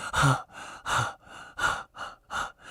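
A voice imitates heavy breathing: six rhythmic, breathy huffs in quick succession, alternating in and out, close to the microphone.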